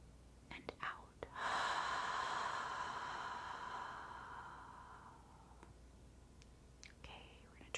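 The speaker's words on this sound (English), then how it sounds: "let's take a few deep breaths" Slow, deep breathing with a long, airy exhale that swells and fades over several seconds during a soft-spoken meditation, framed by faint whisper-like breaths before and after.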